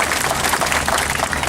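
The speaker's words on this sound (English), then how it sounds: "Round of applause for Gray." Audience applause at a zoo bird show, a steady dense clapping from a crowd that fills the whole moment at close range, no talk over it.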